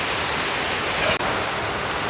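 Heavy rain pours steadily around a poultry farm and fishpond, a dense, even hiss of falling water with one brief dropout, no talk.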